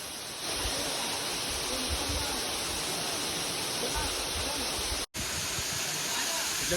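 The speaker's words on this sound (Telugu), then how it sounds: "వాటర్ ఫాల్ సూపర్ ఉంది భయ" A steady, loud roar of rushing water from the nearby Mahithapuram waterfall, continuous throughout with one momentary dropout near the end.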